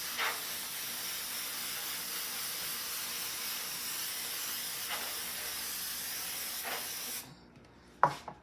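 Baking oil spray hisses in one long, steady close burst as a cake pan is greased for a honey bun cake, cutting off near the end, followed by a brief knock.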